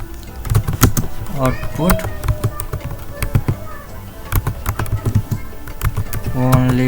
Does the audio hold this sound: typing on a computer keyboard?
yes